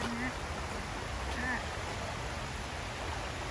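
A creek flows beside a walking trail in a park, giving a steady, even rush of running water with faint brief chirps over it.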